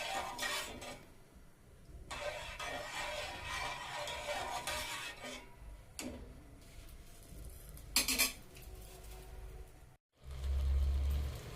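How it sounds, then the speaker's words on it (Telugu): Semolina cooks in a pan for rava kesari while it is stirred now and then, producing continuous soft scraping and clinking of a utensil against the pan, close and quiet, with a few sharper knocks and no talk. "మధ్య మధ్యలో కలుపుకుంటూ మాడకుండా చూసుకోవాలి"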